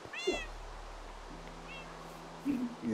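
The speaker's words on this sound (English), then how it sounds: "Is that my cat?" Cat meowing in the video game Minecraft, a short high meow followed by a second fainter one over a low steady hum, with another brief mew near the end.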